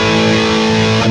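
Jackson King V KV5FR electric guitar, a Japanese-made bolt-on model, played with heavy distortion, a sustained loud chord ringing steadily with thick harmonics and no voices.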